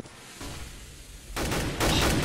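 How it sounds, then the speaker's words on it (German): Gunfire in Counter-Strike: Global Offensive on de_mirage during a tournament match: a quiet lead-in, then two loud, sharp bursts of shots in quick succession. "Boah, auch krasser Schuss von Fock."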